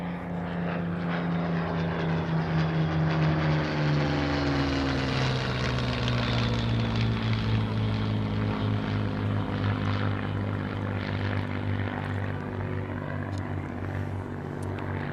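A World War II-style propeller plane drones loudly overhead along the Seven Sisters chalk coastline between Eastbourne and Seaford, its steady engine roar filling the air with a slowly shifting pitch as it passes.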